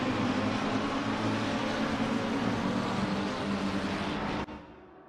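GT race cars in Assetto Corsa Competizione stream out of the pits at Imola, a dense, steady engine roar that holds loud for several seconds before cutting off abruptly near the end.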